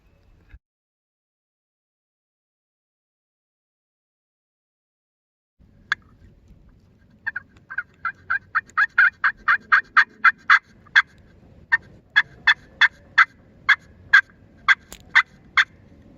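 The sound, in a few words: wild turkey gobbling during a hunt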